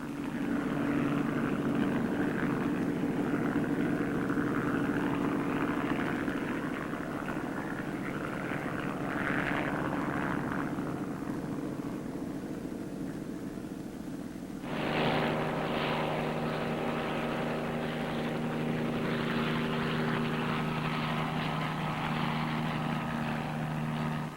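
A military helicopter carrying Marines and their equipment flies with a continuous loud drone and rotor throb, steady throughout, with a shift in tone partway through as the engine note changes.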